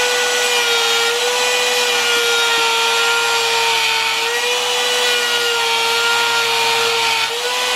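A power tool steadily carves wood at the nut area of a Carvin bass neck, giving a loud, continuous, close-up whine with a grinding, abrasive texture that holds even for several seconds.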